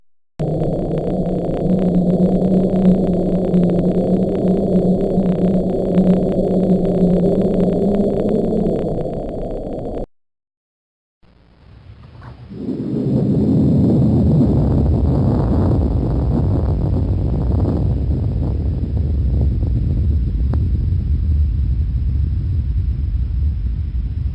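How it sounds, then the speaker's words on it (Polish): Deep, steady low rumble and hum, then a brief silence followed by a swelling, noisy roar with heavy low-frequency energy, like distant underwater seismic or volcanic activity. "Trzęsienie ziemi i erupcje wulkanów podwodnych także generują dźwięk."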